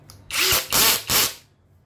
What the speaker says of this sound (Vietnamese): Khoan nè, khoan thì khoan sắt khoan gỗ